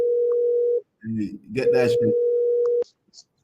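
A phone alert sounds as a steady pure tone that stops, then resumes after someone speaks briefly over it and cuts off abruptly.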